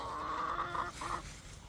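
Lavender Orpington chickens cluck and murmur in a few drawn-out, throaty calls, fairly close, over a soft outdoor garden background.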